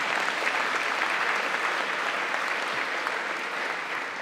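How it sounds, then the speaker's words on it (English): Audience applause filling a State of the City address in Stockton, a steady, dense wash of clapping from a large crowd that holds at an even level throughout without any voices. "Yeah, you clap for that, that's a good thing."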